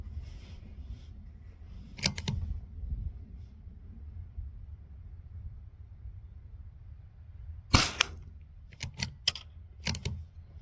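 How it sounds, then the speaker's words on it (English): Unsuppressed .22 LR rifle shots fired outdoors at targets with cheap ammunition, a single sharp crack followed later by a cluster of several quick reports, with quiet ambience between. "let's shoot it without the can"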